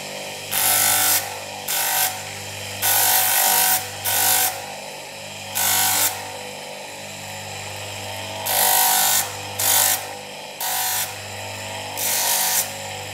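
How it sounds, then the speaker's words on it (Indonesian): Power sanding a handmade copper and brass ring produces repeated short bursts of harsh, hissing abrasive rasp over a steady low motor hum, each pass lasting about a second with brief gaps between. "Kita amplas lagi"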